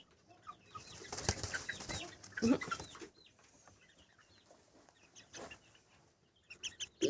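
Bantam hens and a small rooster cluck and chatter in a farmyard in the evening, with scattered close clucks and a few sharper calls, some louder bursts near the end.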